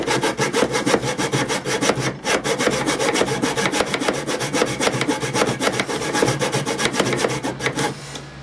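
A hand saw cuts fret slots in a wooden electric guitar fretboard, a loud, close, steady rasp of rapid back-and-forth strokes with one brief pause, no voices.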